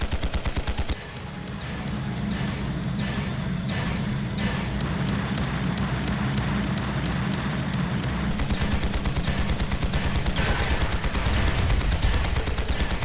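Sustained automatic gunfire from army units in the video game Trails of Cold Steel II, a loud, continuous rattling barrage of rapid shots running for the whole stretch without a pause.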